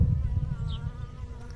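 A honeybee swarm cluster hums with a dense, continuous buzz, loud and close, with a few individual bees whining past.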